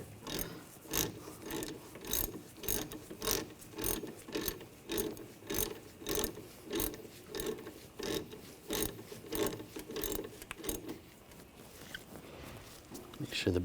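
A hand ratchet tightens a brake caliper pin on the rear brakes of a 2014–2020 Nissan Rogue, its rapid clicking strokes repeating in steady bursts close by.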